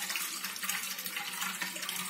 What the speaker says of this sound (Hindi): उसमें धीरे धीरे ये पानी इस तरह हम हल्के हाथ से डालेंगे कि छिलके हमारे निकल जाए